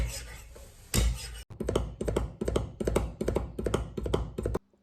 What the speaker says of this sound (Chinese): 2、3粒大蒜用刀拍匀剁碎